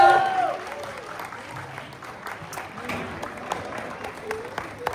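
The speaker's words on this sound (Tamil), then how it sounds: "ஒரு பெரிய கைத்தட்டல் கொடுத்தலாம்." An audience in a hall claps after a children's dance mashup performance at a Tamil school in California, moderate applause under a faint background of voices, starting loud and settling to a steady patter.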